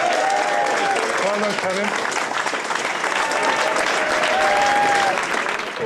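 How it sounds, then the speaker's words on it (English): A quiz-competition audience gives sustained, dense applause for a three-times world quiz champion, loud and continuous throughout, while a voice speaks briefly over the clapping. "A round of applause, please"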